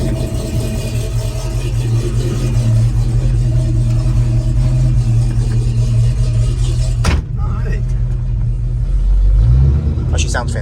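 A 1969 Chevrolet Chevelle SS 396 V8 engine rumbles loudly at idle, rising into a deep rev near the end, with a sharp clack partway through.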